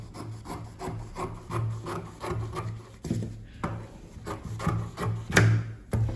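Fabric is cut with scissors for a casual bubu kimono top, giving a series of close, rhythmic snipping and rasping strokes with short gaps between them and no speech.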